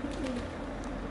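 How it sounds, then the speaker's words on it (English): A very dirty pigeon gives soft, low cooing close by at a feeding spot, a brief murmur over a faint background hum. "The most dirtiest pigeon I've ever seen, that is."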